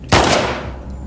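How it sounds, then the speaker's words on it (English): A single heavy gunshot in The Last of Us Part 2, loud and close, with a sharp crack followed by a long decaying echo. "I'm missing all these shots."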